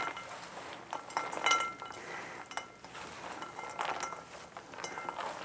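Hands tossing berries with sugar and cornstarch in a bowl for a berry tart, giving soft irregular rustling and light clinks against the bowl, moderately quiet and continuous with no voices.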